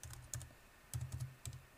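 Someone types an ADB command on a computer keyboard, giving short bursts of soft key clicks with brief pauses between the groups, close and quiet, with no talking.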